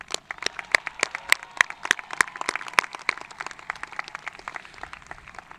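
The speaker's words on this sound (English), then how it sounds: "let us all give you a round of applause for your tremendous accomplishments" Graduates of the class of 2025 are applauded at the May River High School graduation ceremony with a steady patter of sharp, distinct claps from a modest gathering, heard at a moderate distance with no voices over it.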